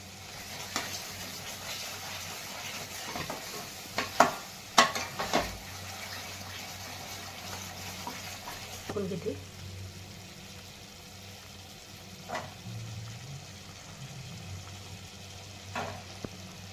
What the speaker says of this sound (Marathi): मसाला आता छान परतलेला आहे